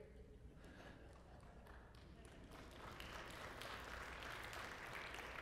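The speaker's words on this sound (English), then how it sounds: "Let's hold the applause until I tell you what it's for." Audience applause in a church worship service for a boys' basketball team's trophy, a steady wash of many hands clapping that swells louder partway through and continues throughout.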